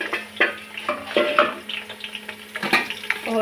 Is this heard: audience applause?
no